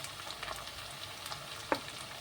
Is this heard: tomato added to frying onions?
yes